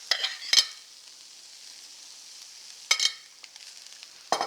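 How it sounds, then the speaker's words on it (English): Frozen corn, peppers and onions fry in a pan with a faint, continuous hiss, broken by three brief scraping bursts as the vegetables are stirred, close by and without talking. "add some of my peppers and onions to that"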